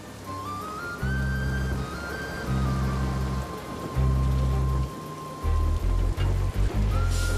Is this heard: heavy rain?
yes